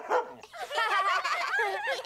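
A pet dog in a cartoon barks and yips on command, an excited run of high, close, continuous vocalising with no talk.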